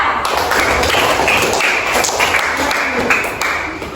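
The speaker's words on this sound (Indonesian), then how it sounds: "tepuk tangan untuk kelompok 3" A classroom of students applauds a group of classmates at their teacher's prompt, dense steady clapping filling the whole stretch at close range with no talk over it.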